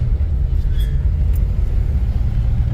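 A Jeep YJ Wrangler with a 4.6 stroker engine and original 5-speed transmission drives through mountains in third gear, a steady low engine rumble with constant road drone, close and unbroken, no talk.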